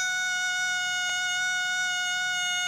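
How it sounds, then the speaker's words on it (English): An aircraft reed-type stall warning horn holds a steady, thin tonal whine at one pitch throughout, reedy and buzzing, with a faint click midway. "it creates an audible warning indication that sounds like this"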